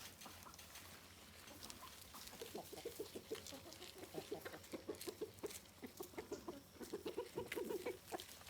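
Chickens cluck softly in a farm chicken pen shared with goats, a run of quiet, rhythmic clucks growing busier over a low outdoor background hiss, with no one talking.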